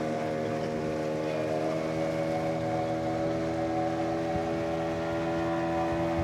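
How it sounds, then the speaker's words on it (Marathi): A speedboat engine drones steadily on a sea trip off Malvan on the Konkan coast, a loud, continuous motor hum with layered tones and no breaks. "ही आहे आपली बोट"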